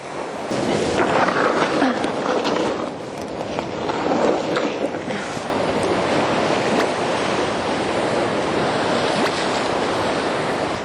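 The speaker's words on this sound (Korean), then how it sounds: "파도가 이렇게 밀려와서 일로 쭉 가." Sea waves wash steadily against coastal rocks on a sunny day at a rocky shore used for float fishing, a continuous loud surging roar with some wind noise across the microphone and no talking.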